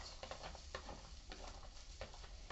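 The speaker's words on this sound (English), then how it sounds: "I've got probably about like a tablespoon to a tablespoon and a half of vegetable oil in here to help the onions fry up" Finely chopped onions fry in about a tablespoon and a half of vegetable oil for Asian fried rice, a soft steady sizzle broken by light scraping stirs, faint and close, with no talking.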